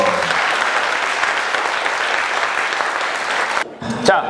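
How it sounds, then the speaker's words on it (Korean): Dense applause from a studio audience on a Korean talk show, steady and loud for several seconds before cutting off abruptly near the end, with a brief sound after the cut. "박수."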